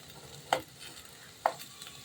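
Potatoes sautéing in a pan give a soft low sizzle broken by two distinct sharp scrapes of a spatula about a second apart, close and fairly quiet, with no voices.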